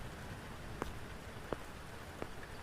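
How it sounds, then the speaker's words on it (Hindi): Rain falling in the dark, a steady soft hiss of drops carrying a few sharp, isolated taps spaced about every second, with no voices. "सिर्फ पैरों की आवाज, बारिश की आवाज गूंज रही थी।"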